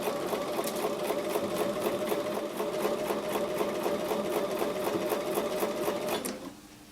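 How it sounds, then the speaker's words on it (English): A home sewing machine runs steadily, stitching a 1/4 inch seam through cotton quilt block pieces with a fast, even rhythmic chatter, loud and close, then slowing and stopping near the end. "So I'm going to take those to the sewing machine and sew with a 1/4 inch seam."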